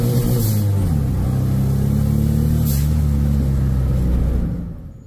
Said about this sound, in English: The Mitsubicha is burning some rubber.